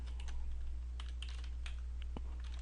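Clicks of typing on a computer keyboard while entering text into a PowerPoint slide: scattered, fairly close keystrokes over a steady low hum, with no talking.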